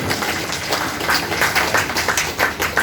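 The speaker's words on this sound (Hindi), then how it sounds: "तालियों को थोड़ा घनीभूत कर लो" An audience at a poetry gathering held in honor of parents claps steadily and densely, a close, continuous patter of many hands with regular beats showing through.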